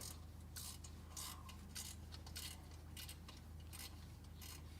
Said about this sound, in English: I'm using a 10mm ratcheting wrench to remove the hardware from the motor and the rear end itself.